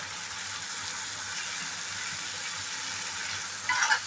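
Amaranth leaves and chicken liver frying with cumin powder and garam masala in an oiled pan, giving a steady, close hiss of sizzling oil throughout with a brief louder crackle near the end.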